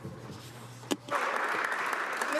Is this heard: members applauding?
yes